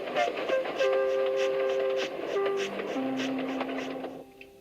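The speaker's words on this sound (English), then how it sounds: "Thomas puffed sadly away." A cartoon steam locomotive from Thomas and Friends puffs away with rhythmic chuffing, whistle-like tones and rolling rail noise, fading at the end.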